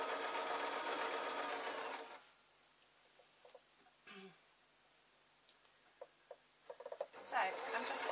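Serger overlocker sewing an unlined jacket with no collar, a loud fast whirring run for about two seconds that then stops, followed by quiet handling clicks and brief speech.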